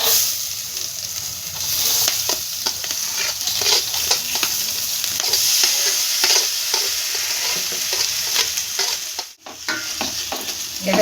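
Ghee-coated rice being stirred and fried in a pot for Kanika Bhog, a steady close sizzle with scraping stir strokes throughout and a brief dip near the end.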